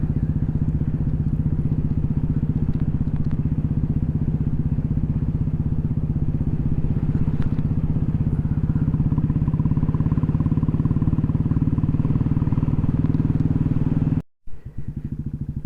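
A motorcycle engine drones steadily up close while riding over a road with large potholes, with occasional rattles and jolts, then cuts out briefly near the end before resuming.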